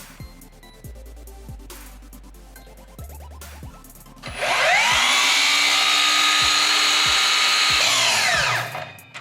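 Milwaukee cordless compound miter saw spinning up with a soft start and cutting, a loud sustained whine and cut that swells in and then winds down, preceded by a few clicks and knocks.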